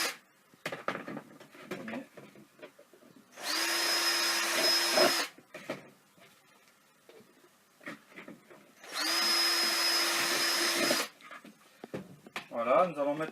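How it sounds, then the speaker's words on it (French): A power drill bores holes in plant saucers for a homemade chicken feeder, heard as two loud steady whining bursts a few seconds long, with handling clatter and brief talk between them. "Maintenant on va percer les sous-pots."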